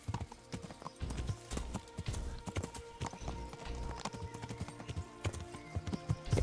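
Horse hooves clip-clop steadily and rhythmically at a moderate distance in the video game Kingdom Come: Deliverance, continuing without pause over a soft background.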